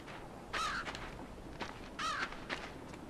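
Crow cawing in the video game Limbo: two harsh, rasping caws about a second and a half apart, fairly faint against a quiet background, with no voices.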